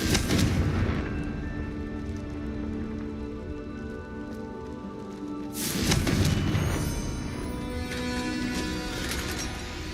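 A Confringo fire spell blasts in the video game Hogwarts Legacy with a loud crackling burst of impact. A second heavy boom follows midway, over continuous rumbling game noise.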